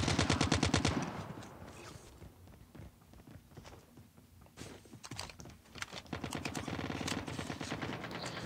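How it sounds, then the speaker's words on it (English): Rapid minigun fire in a battle royale video game, with sustained dense bursts at the start and again near the end, quieter scattered shots in between. "You always want to experiment with mini guns in BR"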